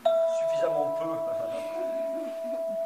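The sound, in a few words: tubular bell with vibrating iron tongues ringing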